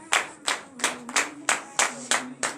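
A church congregation at a Beninese morning prayer service claps in a steady rhythm, about seven sharp, evenly spaced claps, close and clear with no talking.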